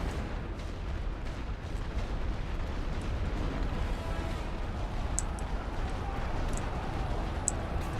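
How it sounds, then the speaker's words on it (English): Artillery pounds away in the WWI game The Great War: Western Front as a steady, muffled rumble of distant booms merging into a continuous roar, with faint sharper pops now and then and occasional voices underneath. "Oh my god, double artillery on that?"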